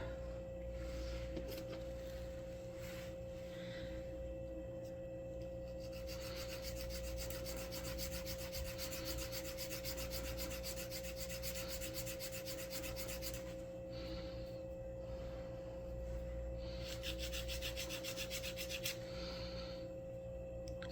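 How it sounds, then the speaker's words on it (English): A wooden part for a Model Shipways Muscongus Bay Lobster Smack ship model is sanded by hand, with close, dry rasping strokes coming in repeated bursts over a steady low background hum. "I think for the other one, I'll just sand that a bit."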